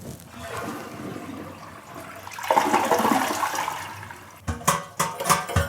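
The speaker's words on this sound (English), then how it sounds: "We just gotta flush and drain this toilet." A household toilet flushed to drain it during replacement, with a rushing swirl of water and then a few gurgling, sucking surges as the bowl empties.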